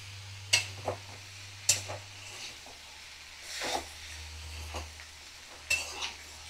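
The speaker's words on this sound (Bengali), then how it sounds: "আমি ভালো করে নাড়াচাড়া করে লাউ চিংড়ি মিশিয়ে নেব" Bottle gourd and prawns stirred together in a pan over a medium flame, giving quiet, intermittent scrapes and clinks of a utensil against the pan over a faint steady hum, with a few sharper taps spaced through.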